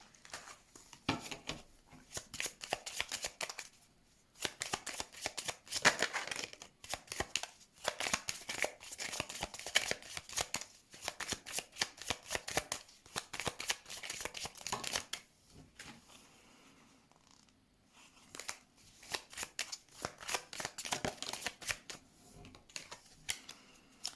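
Tarot cards being shuffled for a reading: repeated papery riffling and flicking bursts in an irregular rhythm, with brief pauses between runs, close and fairly soft, no voices.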